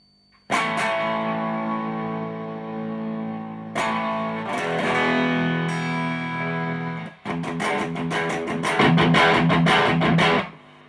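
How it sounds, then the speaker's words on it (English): An electric guitar plays distorted chords through a Marshall JTM60 combo amp with a bad preamp tube, the tone ringing and swelling, cutting out briefly between phrases before returning louder. "is the sound of a bad preamp tube."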